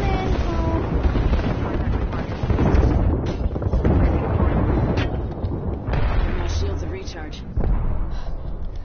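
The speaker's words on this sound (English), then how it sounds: "Got airstrikes." Airstrike explosions in a video game rumble and boom in heavy overlapping waves with scattered sharp cracks, loud and continuous throughout, and someone talks over the blasts.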